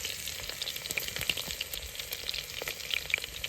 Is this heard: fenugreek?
yes